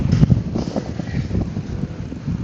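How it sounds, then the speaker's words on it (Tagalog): Strong wind buffets the microphone with a steady roaring rush and low thumping gusts, no voices. "Taas ng hangin!"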